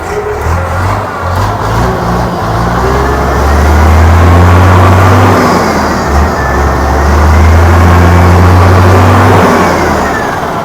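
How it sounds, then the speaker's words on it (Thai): A Hino 380 hp truck engine, a low-mileage older unit with factory exhaust brake, rumbles loudly and steadily at idle up close, with a deep droning hum that swells and eases slightly. "เดี๋ยวฟังเสียงเดินเบานิดนึงเครื่องใส ๆนะเครื่องใสมากเลย"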